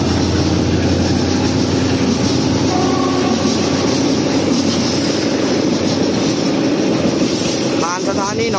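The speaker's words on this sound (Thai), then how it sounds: "รถขนสินค้าผ่านนี้หนองแก" A freight train passes through Nong Khae station in Thailand, a loud, steady rumble of wagons rolling close by without pause, with wheel and rail clatter throughout and a brief squeal near the end.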